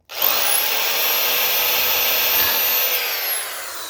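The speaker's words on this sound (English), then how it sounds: "We just broke the drill bit off." A power drill whines loudly and steadily for a few seconds, grinding into a metal valley screen for a big block 565 engine, with no voices.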